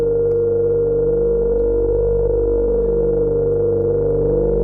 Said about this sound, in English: if we have no sub-oscillator, the filter is self-resonating